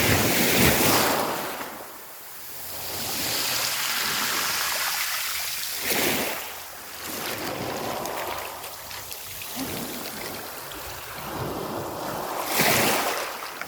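Waves breaking on the pebble beach of Kolbano, East Nusa Tenggara, a sandless shore of colorful stones. Loud surges arrive every few seconds and wash back over the stones, with wind buffeting the microphone.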